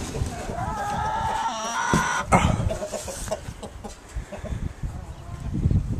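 Chickens cluck in a coop, soft clucks scattered through steady background noise, with a brief person's voice over them.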